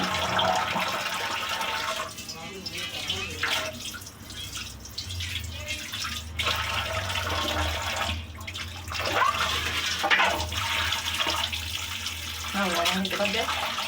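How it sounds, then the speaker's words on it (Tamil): Fish being washed by hand in a vessel of water, with continuous sloshing, splashing and dripping close by, running throughout at moderate level. "இந்த மாதிரி கழுவுங்க தண்ணியில் போட்டு கழுவிடுங்க"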